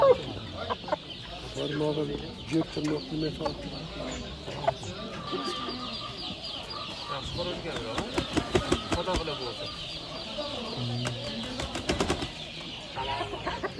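Chickens and roosters at a poultry market in Manas cluck and squawk near and far, with wings flapping in bursts, while people talk over the busy scene.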